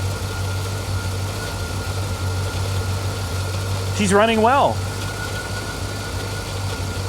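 Repaired Corvette idling with a steady low engine hum throughout, while a person speaks briefly over it near the middle.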